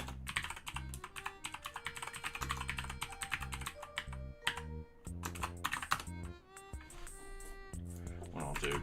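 Rapid keystrokes on a computer keyboard while writing Python serializer code, a steady clatter of key presses mixed with background music.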